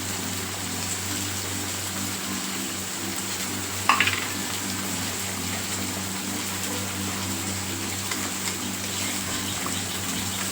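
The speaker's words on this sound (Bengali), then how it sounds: "এবার মশলাটাকে কিন্তু আমি ভালো করে কষাতে থাকবো।" Spice paste with ground cashew and peanut paste sautéing in a pan, a steady low sizzle and frying hiss throughout with one brief sharp clink of a utensil partway, no talking.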